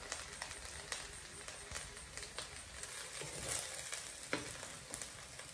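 Chicken fried rice with spring onions sizzling and being stirred in a hot pan, a steady frying hiss broken by scattered scrapes and clicks of a utensil, close and moderately quiet with no talk.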